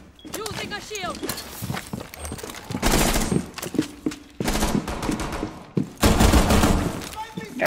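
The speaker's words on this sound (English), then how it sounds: "I really just got shot by her." Gunfire in a ranked Rainbow Six Siege match: sharp, rapid bursts of shots come in several loud clusters with short gaps between them, over other game sounds and a player talking.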